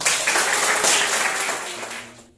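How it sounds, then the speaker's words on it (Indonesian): Applause from a class, a dense burst of clapping that is steady at first and then fades out over about two seconds. "Silakan tepuk tangan."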